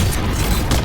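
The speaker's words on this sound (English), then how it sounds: "Bombs away." Bombs dropped by Iron Man in the video game Marvel Rivals explode in a dense, loud, sustained boom with rumbling low end, brief and alone.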